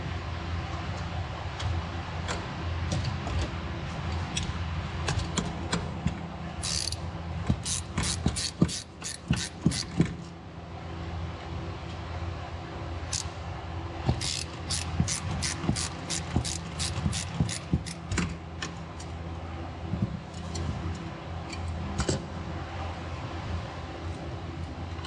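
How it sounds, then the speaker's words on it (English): Ratchet clicks as screws come out of the third-row seat motor of a Mercedes GL550, several close, rapid bursts of rhythmic pawl ticking over a low steady hum, with no talk. "Now we can proceed to remove the other two screws on the back."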